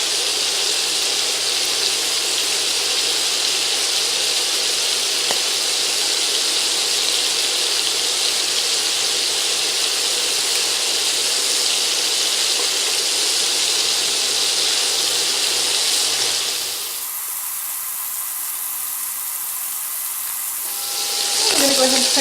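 Steady loud sizzling of beef browning in a hot frying pan for beef bourguignon, continuous and close, briefly quieting near the end before the sizzle returns.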